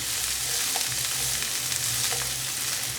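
Broccoli and carrots stir-frying in vegetable oil for a vegan stir-fry, a dense, constant sizzle with a low hum underneath and faint occasional clinks.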